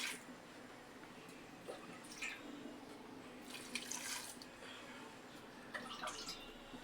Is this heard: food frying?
no